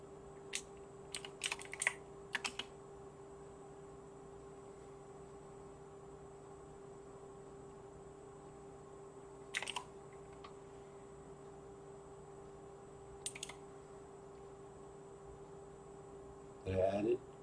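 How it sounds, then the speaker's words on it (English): Scattered bursts of computer keyboard typing, a few quick keystroke clusters near the start and isolated short bursts later, faint and close against a steady electrical hum and background noise. "So typing it into the Discord."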